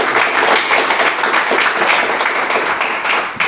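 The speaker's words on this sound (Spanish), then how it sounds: "Si puedes darle un fuerte aplauso a la palabra de Dios." Church congregation applauds loudly and steadily throughout, a dense, close wash of many hands clapping with no voices on top.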